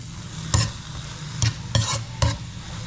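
Chili peppers sautéing for ginisang upo, a steady low sizzle broken by four sharp, close scrapes of a utensil stirring the pan.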